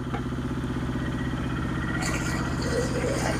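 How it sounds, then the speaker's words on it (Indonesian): A concrete mixer (mesin molen) runs steadily while pouring concrete for a building's sloof foundation beam, a continuous mid-pitched engine drone with rhythmic clattering, joined by some brighter scraping and clanking toward the end. "jadi tidak manual tapi menggunakan tenaga mesin molen."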